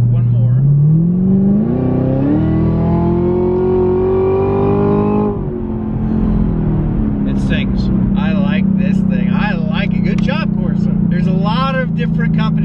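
A Camaro ZL1 fitted with a Corsa cold air intake accelerates hard. The engine note is loud and close, climbs in pitch through the gears, shifts, and then settles into a steady drone while someone talks over it.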